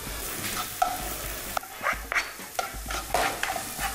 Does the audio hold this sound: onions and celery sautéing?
yes